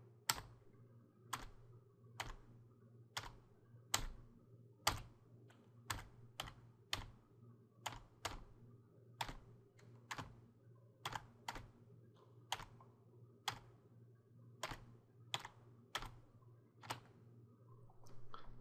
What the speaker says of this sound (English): Type on the keyboard before the letters get to the bottom.